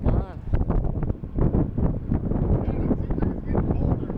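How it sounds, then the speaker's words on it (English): Strong wind buffets the microphone outdoors beside a 2002 Chevy S-10 Xtreme pickup, a loud, rough, continuous rumble of gusts with faint talk buried underneath. "That wind is brutal."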